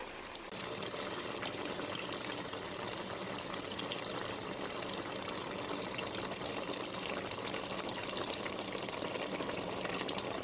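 A pot of food boiling on a stove, a steady close bubbling and rushing wash of sound that holds constant throughout, with no talk.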